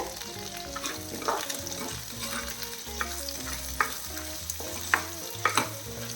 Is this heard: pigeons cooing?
no